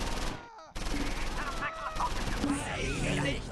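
Close Combat IV battle: rapid rattling small-arms fire and machine-gun bursts crackle almost nonstop, broken by a brief gap, with someone speaking over the shooting.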